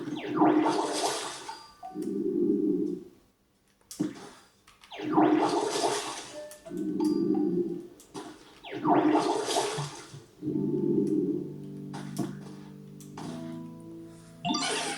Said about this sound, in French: Tu connaîtrais pas un Pokémon sympa qui pourrait arroser le sol pour moi par hasard?